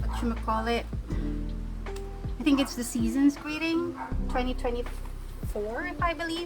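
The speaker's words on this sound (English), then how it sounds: "I'm sorry about the dog barking." A dog yips and barks intermittently in the background while a person talks steadily over it.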